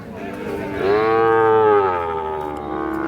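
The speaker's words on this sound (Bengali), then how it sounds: "4 মাস বয়সে শাহিওয়াল ষাঁড় বাচ্চা।" A four-month-old Sahiwal bull calf at a cattle market gives one loud, drawn-out moo. The call rises, holds and then slowly trails off, with low market noise underneath.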